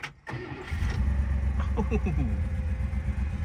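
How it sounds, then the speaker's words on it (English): A 1966 Buick Skylark V8 cranks briefly and fires on the first try without choke, then settles into a steady, loud, rumbling idle close by. A person gives a short exclamation just before it catches. "Let's see if it'll crank up on the first try without hitting choke on it or anything."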